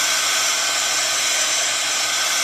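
A heat tool blows steadily to dry alcohol ink on embossed metal, giving a loud, constant hairdryer-like whoosh with no breaks, close to the microphone and without voices.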